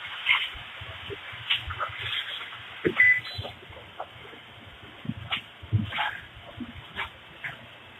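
A dog in a home apartment gives short barks, yips and whimpers scattered across the scene, moderately close and fairly quiet, against a low indoor rumble.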